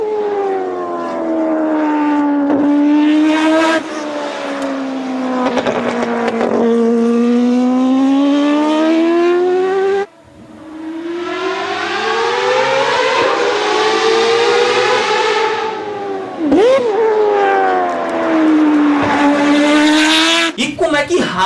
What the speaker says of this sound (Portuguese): o modelo rotativo da Mazda tinha 4 cilindros e gerava um ronco maravilhoso.